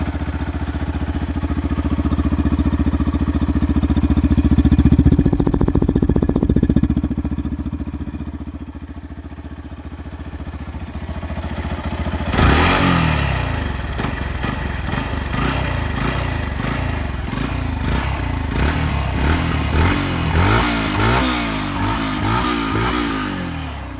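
A Yamaha FZ-S 149cc motorcycle starts up and settles into a steady, close idle, its single-cylinder engine ticking and chugging evenly with a slight mechanical clatter, running alone without revving.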